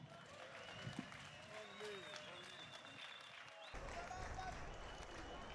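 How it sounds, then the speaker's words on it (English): Crowd at an ANC 108th anniversary celebration in South Africa applauding after a speech, a faint, distant wash of clapping and crowd noise that swells slightly near the end. "You can give a loud applause"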